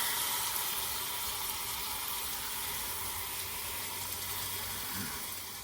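Tempering with curry leaves sizzles in hot oil, a continuous bright crackling hiss over a low background rumble that eases slightly toward the end, with no voices.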